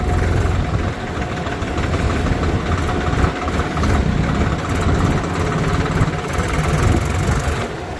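A new-model Swaraj tractor's diesel engine idles steadily and close by, a continuous low rumble with a faint rattle running throughout, no voices.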